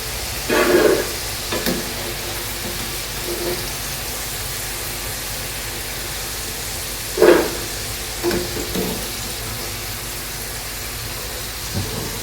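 Potato pieces for potato 65 frying in hot oil, a steady close sizzle with a few louder bursts and crackles as pieces are moved, no talk.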